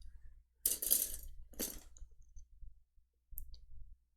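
Sharp snips of cutters clipping plastic model kit parts off the sprue, a couple of close, crisp clicks with a brief rattle, then one more faint snip after a pause in a quiet room.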